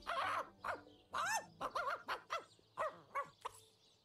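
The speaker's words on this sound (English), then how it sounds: "Looks like that dog is awfully agitated." A dog in the video game Divinity: Original Sin barks and yips agitatedly, roughly ten sharp, close barks in uneven succession with a few whiny notes, heard alone.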